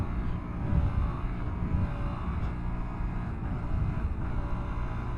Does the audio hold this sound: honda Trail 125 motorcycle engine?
yes